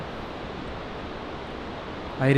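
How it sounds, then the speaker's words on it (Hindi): Steady broadband rush of a waterfall at Sonprayag in Uttarakhand at night, a continuous even roar filling the background, with a louder burst of nearby noise at the very end. "पीछे से झरने की आवाज़ आपको आ रही"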